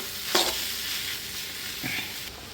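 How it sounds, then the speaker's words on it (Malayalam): A spoon stirs clam roast frying in a pan, giving two short scraping strokes over a steady, moderate sizzle. "ഇളക്കി യോജിപ്പിച്ചിട്ട്"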